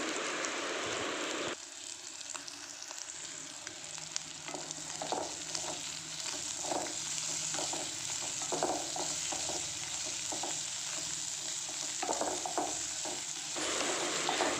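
Milk shark dry fish fries in a pan with a steady, crackling sizzle lasting a long stretch, punctuated by soft intermittent stirring scrapes close by.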